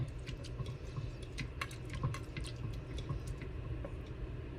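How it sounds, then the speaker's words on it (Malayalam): Water splashing and trickling into a cooking pot of meat, a steady liquid pour with small clinks and drips, close and moderately quiet, no talking. "ആവശ്യത്തിന് വെള്ളം പാർന്നു കൊടുക്കാം"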